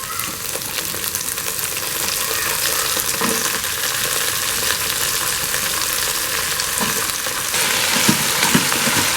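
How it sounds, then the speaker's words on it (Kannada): Okra and mixed vegetables sautéing in a pan during a tempering, with a steady bright sizzle throughout and a few soft stirring knocks near the end, close and fairly loud with no talking. "ಬೆಂಡೆಕಾಯಿ 1-2 ನಿಮಿಷ ಸಾಟೆ ಮಾಡ್ಕೊಳ್ಳೋಣ ನೋಡಿ."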